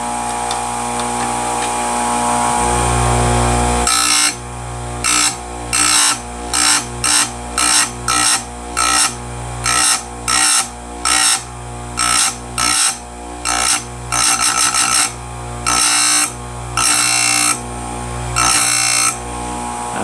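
A Stihl USG grinder sharpens a damaged chainsaw chain, one cutter at a time: a steady loud grinding whine broken into a rhythmic series of short, evenly spaced bursts as each tooth is touched to the wheel.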